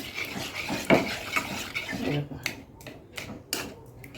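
A ladle stirs boiled raw mango in a pot, giving soft scraping and sloshing with a few sharp metal clinks, close and fairly quiet, with background voices.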